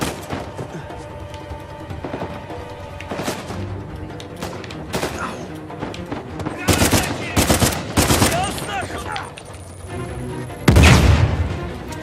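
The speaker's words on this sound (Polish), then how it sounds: "Granaty strasznie szybko wybuchają" Video game gunfire and grenade blasts from an Uncharted 4 shootout in Madagascar, with rapid automatic bursts, scattered shots and heavy booming explosions that grow louder toward the end, loud and close.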